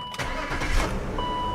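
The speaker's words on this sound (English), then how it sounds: "We can start the car" A 1997 BMW 528i engine cranks briefly and catches, then settles into a steady close idle with a faint electronic chime tone audible over it.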